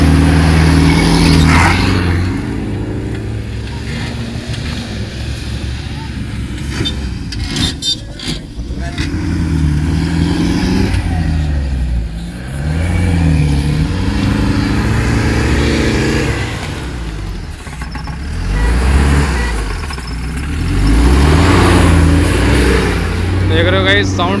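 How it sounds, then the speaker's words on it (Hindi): Off-road car with a changed silencer revving and drifting on sand, a loud raw engine note that swells and drops in repeated surges, with a person talking over it at times. "गाइस साउंड कितनी खतरनाक हो चुकी है साइलेंसर चेंज होते ही।"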